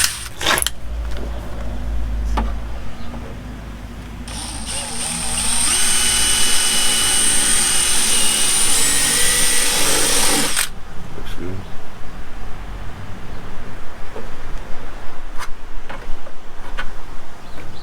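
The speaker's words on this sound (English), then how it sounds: "So they make bits for drilling out the spot welds, right?" A power drill with a spot-weld drill bit whines loudly for several seconds in the middle, drilling out spot welds on a Dodge Dakota cab corner, bracketed by quieter workshop noise and scattered clicks and knocks.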